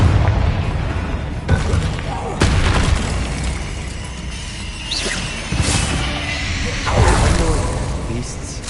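Confringo blast spells go off in the Hogwarts Legacy video game as several booming explosions with whooshing bursts, spread irregularly across the fight, loud and close amid other spell effects and some speech.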